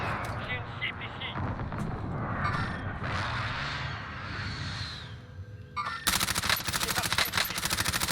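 Rapid gunfire in a Warzone Resurgence match, dense bursts under excited voices talking over it, then sharp, loud repeated shots toward the end.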